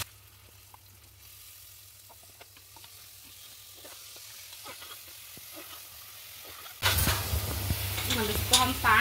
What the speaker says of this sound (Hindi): प्याज देखिए हल्के से पिंक होते ही मैं इसमें डाल रही हूँ सब्जियां सारी